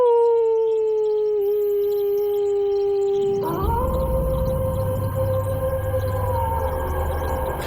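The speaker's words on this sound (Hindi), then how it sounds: "रात को दूर से कुत्तों की भौंकने की आवाज।" Distant dogs give long, wavering howls at night, one drawn-out tonal howl sliding and shifting partway through, with a low rumbling background and no talking.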